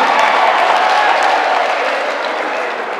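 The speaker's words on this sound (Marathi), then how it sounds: "जोरदार टाळ्या वाजवा." An audience at a live stage talk in Baramati breaks into sustained applause, a dense wash of clapping that stays loud and even, then eases slightly toward the end.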